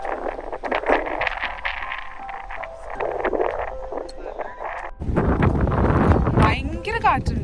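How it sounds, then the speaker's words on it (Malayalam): Strong wind gusting across a hilltop in Vagamon, a continuous roaring buffet against the microphone that grows heavier and lower in its second half, with no clear voices over it. "ഞാൻ വീഡിയോയിൽ കാറ്റ് മ്യൂട്ട് ചെയ്തിട്ടില്ല, അത് കേൾക്കുമ്പോൾ മനസ്സിലാവും ഭയങ്കര കാറ്റായിരുന്നു അവിടെ ഉണ്ടായിരുന്നത്."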